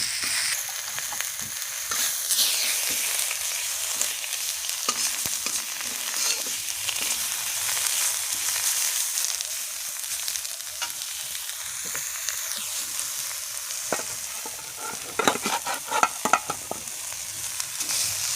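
Spices with chili powder sauté in a pan, sizzling loudly and continuously, with scraping stirs and a burst of crackling clatter near the end, no talking.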